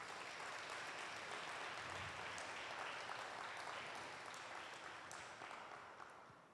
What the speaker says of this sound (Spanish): Dale un fuerte aplauso a Dios por eso.